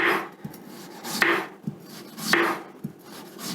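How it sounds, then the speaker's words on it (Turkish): A knife slices vegetables into rounds on a cutting board in slow, steady strokes about once a second, each a soft swish ending in a dull thud, close and alone. "Malzemelerimizi şöyle yuvarlak yuvarlak keseceğiz."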